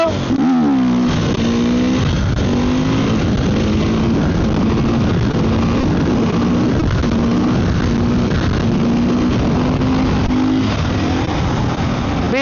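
A KTM supermoto motorcycle engine revs hard and holds a steady, loud droning pitch through a power wheelie, rising briefly at the start and sustained close by for about twelve seconds with no talking.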